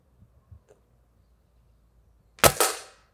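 A single sharp shot from a Rossi Dione 4G gas ram pellet rifle cracks out near the end after a few faint clicks, its crisp report decaying quickly.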